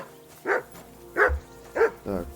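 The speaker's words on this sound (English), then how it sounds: "Jesus, Henry, that barking's driving me nuts." Dog barking in Kingdom Come: Deliverance II, four loud, evenly spaced barks close by, each short and sharp, alone with no talking.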